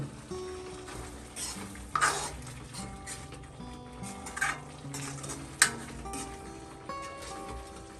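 Oil sizzles in a pan as spices fry while a spoon stirs and scrapes, with a few sharp metallic clinks standing out; steady kitchen bustle, no talking.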